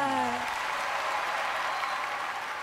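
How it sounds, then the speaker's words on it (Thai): Studio audience applauding on a Thai televised singing competition, a steady dense wash of clapping that stays loud throughout, with a brief voice or musical tone fading out at the start. "ขอเสียงปรบมือกับคุณแจน"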